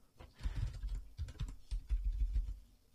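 Quick, close bursts of keystrokes on a computer keyboard as a slash chat command is typed into a Thaumcraft game, with short irregular pauses between the clusters of taps and no talking.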